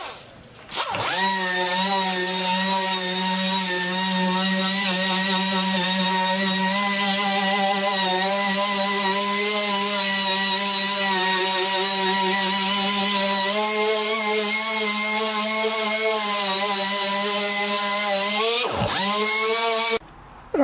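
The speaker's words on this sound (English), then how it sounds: "All right, sandpaper, it's a 400 with the DA." Dual-action sander with 400-grit sandpaper working over a truck's body panels, a steady, close, high-pitched whir running continuously for nearly twenty seconds, starting and stopping abruptly.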